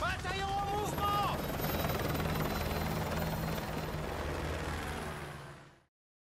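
A helicopter from the video game Call of Duty Modern Warfare 2 roars steadily with a loud rotor and engine drone, then quickly fades out, with a few brief tonal game effects at the start.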